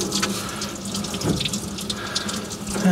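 Coolant from a John Deere 4045T diesel, serving an Atlas Copco compressor, pours out as the water pump comes off, a steady close splashing stream with a few louder gurgles, no talking.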